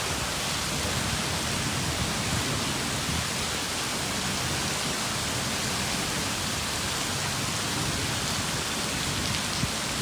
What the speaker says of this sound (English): Now the rain's coming down.